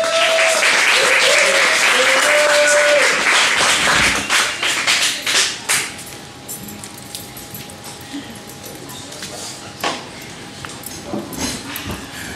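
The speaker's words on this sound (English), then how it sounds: "big round of applause for Tony Fleece" Audience applause at a comedy night in a bar, a dense burst of clapping and cheers that fades after a few seconds into scattered claps and room murmur.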